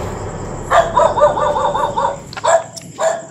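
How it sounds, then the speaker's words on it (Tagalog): Dog barking in a rapid run of sharp, repeated barks, then a few more separate barks, fairly close and loud over a steady background of night insects at an abandoned subdivision in Cavite. "Ingay yung aso nito."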